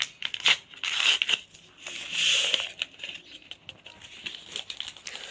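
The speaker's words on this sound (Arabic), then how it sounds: "هبدا انزل كيس الكريم كراميل بتاعي اللي هو البودر" A packet of crème caramel powder is handled in a home kitchen, giving close, irregular plastic crinkling and rustling in short bursts with brief pauses between.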